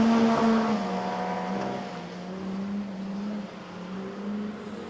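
Modified production race cars rounding turn 4 at Maryborough Speedway, engines droning loudly and then fading slightly as they pass through the corner, with a sustained roar and no break.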